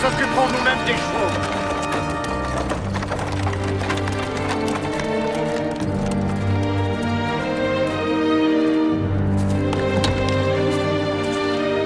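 Rhythmic clip-clop of horse hooves trotting beneath a swelling orchestral music bed, with a voice speaking over it.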